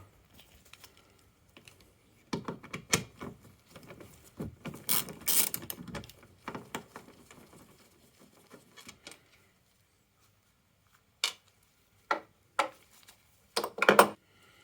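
A 13 mm ratchet wrench works on a 1994 Jaguar XJS V12 facelift, with irregular bursts of close metallic clicking separated by quiet pauses.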